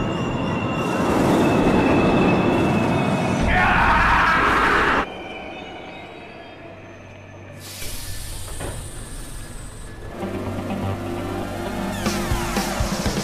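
A train moves through a railway station, loud and near, with rolling wheel rumble and high squeals, then a quieter stretch before more rail noise and screeching wheels build back up.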